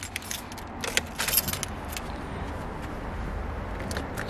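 Two sets of car keys for a Ford Falcon jangle close by in short metallic bursts near the start, then settle into a faint steady background hum.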